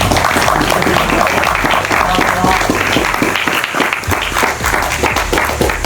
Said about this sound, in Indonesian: tepuk tangan dulu dong buat Doyok